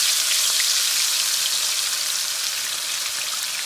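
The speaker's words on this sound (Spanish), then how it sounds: "Y vamos a poner nuestro pescado a freír" Red snapper fish frying in hot oil over lowered heat gives a steady, bright crackling sizzle that stays even and close throughout, with no voices.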